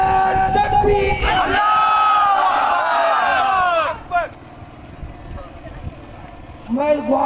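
Crowd at a Haq Do Tehreek-e-Balochistan rally roars a loud, sustained unison chant answering a takbir call, lasting a few seconds before dying away, then a lone voice starts a new call.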